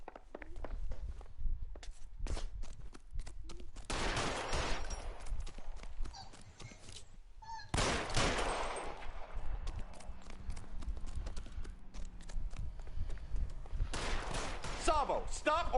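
Gunshots in L.A. Noire, sharp reports scattered among footsteps and street noise, moderately loud bangs spaced irregularly across the scene, with voices talking in places.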